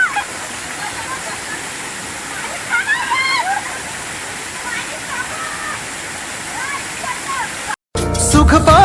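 Gavatlya waterfall rushes as a loud, steady roar close by while people talk over it, then the sound cuts off abruptly near the end and a different segment begins.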